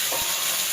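Peeled garlic cloves hit hot oil with cumin seeds and dried red chillies in a pan, giving a close, steady sizzle that fills a brief moment with no talking.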